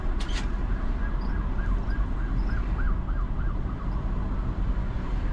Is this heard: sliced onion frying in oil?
no